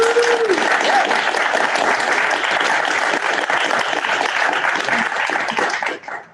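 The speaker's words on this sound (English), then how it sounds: "Can you please give everybody a round of applause?" A roomful of people claps in a dense, steady wash of applause during a gathering, holding strong for about six seconds before thinning out at the end; a brief voice-like tone sounds near the start.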